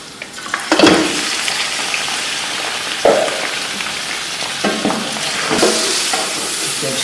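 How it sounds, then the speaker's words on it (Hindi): One kilo of chicken hitting golden fried onions in a pan for Sindhi biryani: a loud, close, continuous sizzle with bursts of spattering and a few scraping stirs, no speech. "अब इसके अंदर हम चिकन डालने लगे हैं।"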